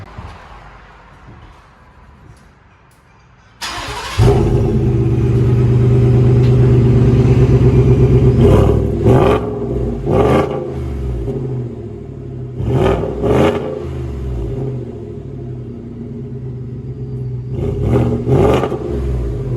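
A 2020 Ford F-150 5.0L V8 with muffler delete and dual-tip side pipe exhaust starts up with a sudden loud roar, settles into a deep rumbling idle, then is revved in several sharp bursts.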